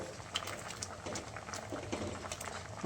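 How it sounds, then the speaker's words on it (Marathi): Quiet, steady bubbling of thick sambar with drumsticks boiling in a pot, with small pops and gurgles, heard close up. "कसे खणखणीत उकळी येते"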